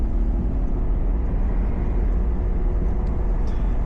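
A car engine pulling steadily in second gear after leaving a parking lot, a continuous loud low drone of engine and road noise heard from inside the cabin, with no voices.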